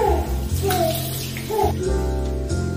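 Running water splashes and pours while a face scrub is washed off, with tonal humming or music underneath and a few brief vocal bits, close and moderately loud.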